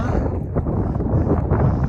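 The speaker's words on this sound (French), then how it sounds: "Il y a un petit peu de vent." Wind buffeting a microphone high on Jade Dragon Snow Mountain at around 3,900 metres, a continuous low rumbling gust that swells and dips over two seconds, loud and close with no other sounds standing out.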